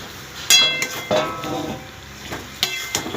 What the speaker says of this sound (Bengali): এবার এর মধ্যে পটলগুলো দিয়ে দিতে হবে